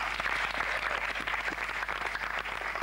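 A church congregation at a worship service applauding, with steady, dense clapping from many hands throughout and a low hum underneath.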